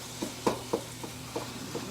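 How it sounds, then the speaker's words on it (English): Ground turkey with seasonings cooking in a pan, making soft intermittent sizzles and a few scraping stirs, quiet and close with no talk. "we're going to cook that turkey until it's no longer pink"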